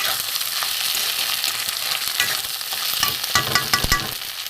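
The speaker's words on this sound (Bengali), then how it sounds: "একটু ভালো করে ডিমটা ভেজে নেব আলুটা ভাজা হচ্ছে" Potatoes and egg sizzle steadily in a frying pan, with a stirring utensil scraping and clicking against the pan toward the end, close and continuous.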